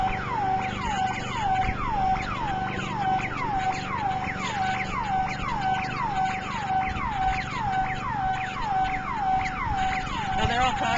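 Neighborhood alarms set off falsely by wind and storms chirp in a fast repeating falling pattern, sustained and moderately loud over faint outdoor background noise.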